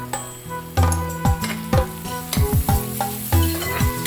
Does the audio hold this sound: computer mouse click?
no